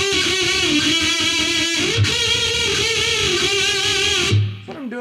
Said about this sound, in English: I'm playing double stop bends with some pretty heavy vibrato